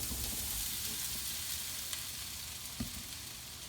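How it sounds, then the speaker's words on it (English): Chopped potatoes sauteing in hot oil in a covered pan, a steady close sizzle and crackle with a few small pops, no talking. "Those are going to go right into the pan with the hot oil, and we're going to cover those and let those saute for about 15 minutes"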